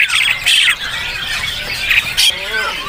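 Hybrid myna birds at a bird market give harsh squawks and squeals in repeated bursts, close and loud, with a voice talking faintly in the background.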